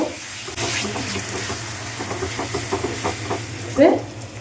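Snake gourd curry with spices and a splash of water sizzles in a pan under steady stirring, with soft scraping strokes and a brief louder clatter near the end.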